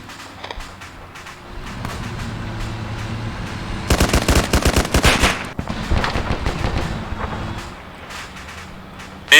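Rapid automatic gunfire in the video game ArmA 3, heard as a loud, dense burst of shots in the middle and a short burst at the end, over steady windy background noise.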